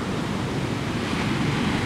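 Ocean surf rolls onto the shore in a continuous broad roar, close and steady, with some wind noise and no voices.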